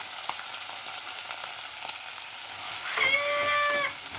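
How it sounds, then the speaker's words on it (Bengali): Mango pieces stirred into red amaranth greens frying in a pan, a soft continuous sizzle with light stirring taps, and a brief higher-pitched tonal squeal near the end. "দিয়ে দেবো আমগুলো। দিয়ে আবারও নেড়ে চেড়ে"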